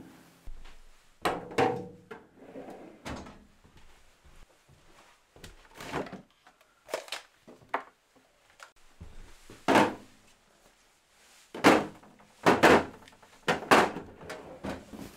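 Drawers on a Clarke tool cabinet under a workbench slide and thunk shut over and over, each one a sharp knock or rolling scrape, with quiet handling sounds in the pauses.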